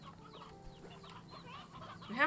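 Chickens cluck and chatter in a Slime Rancher 2 game scene, a steady layer of soft nearby clucks with one sharper, louder squawk near the end.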